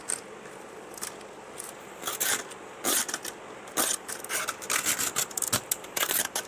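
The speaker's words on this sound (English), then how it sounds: "Shave it down with my deburr tool." Short scraping rasps of a deburring tool shaving burrs off a metal NACA duct opening on a track-day Toyota Supra, arriving in irregular bursts that grow busier toward the end, close up with no talk.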